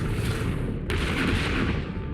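Weapon fire from the TV series The Expanse, a loud, sustained roaring blast with a sharp burst partway through, heavy and close, with no talk.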